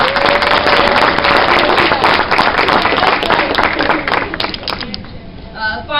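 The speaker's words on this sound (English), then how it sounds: "So I just want to give you a round of applause." A loud crowd claps together at a girls basketball team banquet. The applause is dense and sustained, then thins and fades toward the end, with a voice starting up at the close.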